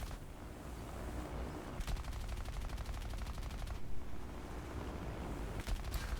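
Rapid bursts of aircraft machine-gun fire from a Focke-Wulf 190 Dora attacking a B-17 bomber in War Thunder, heard as two sustained rattling volleys over a low engine drone, moderately loud.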